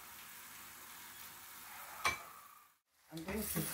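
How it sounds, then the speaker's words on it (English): Omena, small silver cyprinid fish, frying in a pan and being mixed, with a steady soft sizzle, a sharp scrape of stirring midway, a brief near-silent gap, then louder crackling as mixing resumes. "I'm going to fry. Mix them well."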